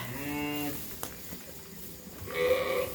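Sheep bleat in a barn during lambing: one wavering call opens, a sharp knock follows, and a second louder bleat rises near the end, heard close and alone.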